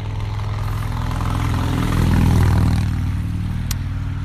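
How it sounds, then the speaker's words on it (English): A motorcycle out in morning traffic, its low engine rumble swelling as it draws near, peaking, then fading away over a steady background road drone. "See if I can get away from the traffic noise."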